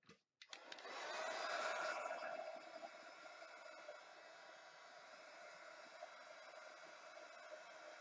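A hair dryer or heat tool blasting air over mixed media craft pieces: one steady close whoosh that switches on after a brief click, swells, then settles into a constant roar.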